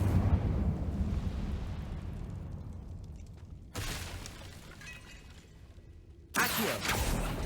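Incendio fire spell cast in the Hogwarts Legacy video game: a loud roaring burst that decays over several seconds, followed by two more sudden whooshing bursts of flame, with no talking.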